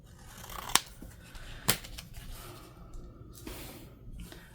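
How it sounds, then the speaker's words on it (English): Scissors trim paper for a junk journal, two sharp snips standing out over a quiet, muffled room background, close and fairly soft. "we may just trim it down a little bit"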